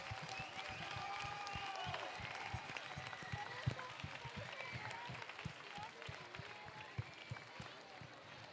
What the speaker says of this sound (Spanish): un fuerte aplauso a nuestro colegio que cumple 27 años